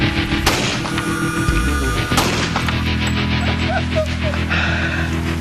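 A bullet strikes a cinder block at a 22.5-degree angle, producing a sharp, loud report near the start, then a second heavy boom about two seconds later as the sound rings and decays outdoors.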